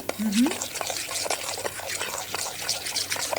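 A spoon briskly stirs a sugar and cream glaze for cheesecake in a small bowl, close and wet-sounding with soft rhythmic scraping and clinks, as a person talks faintly underneath.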